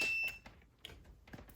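A continuity tester checking a wire link in chassis wiring sounds one short, steady, high-pitched beep at the start, followed by faint clicks and light handling noises.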